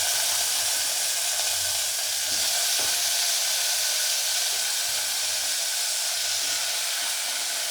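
Potato and brinjal pieces frying in oil in a pan for a South Indian poriyal, giving a steady, even sizzle and hiss throughout with a few faint stirring clicks, and no talking.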